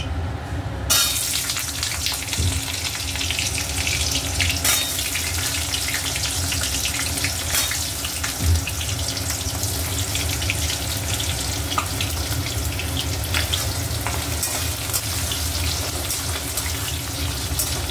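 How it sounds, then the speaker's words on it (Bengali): Potatoes fry in a pan with dried red chillies for a Bengali jackfruit curry, producing a loud, unbroken hissing sizzle that begins abruptly and runs close and steady throughout. "এবার আমি আলুগুলোকে ভেজে নেব"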